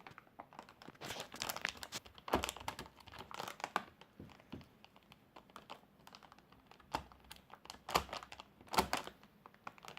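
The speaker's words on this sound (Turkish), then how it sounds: "yavaştan şu bandı çıkaralım" Tape peels slowly off an ASUS Strix GTX 970 graphics card box in soft, uneven crackling bursts and crinkles, quiet and close, with no talking.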